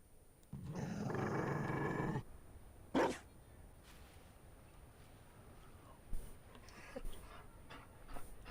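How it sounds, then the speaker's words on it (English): A Mabari war dog growls and rumbles in the fantasy game Dragon Age Inquisition, a loud sustained snarl of about two seconds followed by a short second burst, then quieter game ambience. "And he has a doggy."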